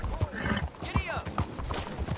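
A horse galloping in Red Dead Redemption 2, quick rhythmic hoofbeats up close, with overlapping voices and a whinny-like cry over the running.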